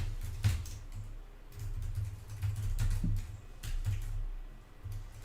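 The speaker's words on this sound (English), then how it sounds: "I'll type it in for you so that you can just click on it." Keys clatter on a computer keyboard as a web address is typed, a quick, close run of light irregular taps over about five seconds, fairly quiet and with no talking.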